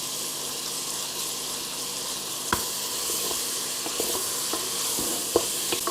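Onions and black pepper frying in a pan give a steady broadband sizzle, with a few sharp clicks of a utensil against the pan, close and without voices.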